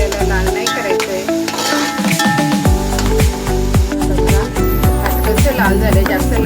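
Vegetable noodle ingredients and paste sautéed in a pan until lightly browned, a steady loud sizzle with repeated scraping and clinking of a spatula against the pan, close up with no talking.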